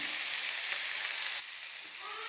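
Onions frying with a pinch of salt in a pan for a chicken parts fry, a dense, bright, hissing sizzle that drops slightly in level partway through, close and continuous with no talk.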